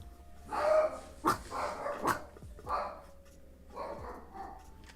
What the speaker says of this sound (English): My dog is a 4-pound Yorkie, and he has quite the personality.